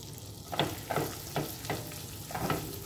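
Chopped garlic and green chili fry in oil in a pan over a low flame: a soft, steady sizzle broken by about five rhythmic scraping stirs, close and moderately quiet.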